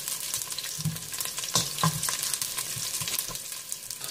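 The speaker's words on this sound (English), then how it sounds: "So now we're going to saute our ingredients. First, we start with the garlic." Garlic sautéing in cooking oil gives a continuous crackling sizzle up close, broken by a few sharp knocks and scrapes of stirring.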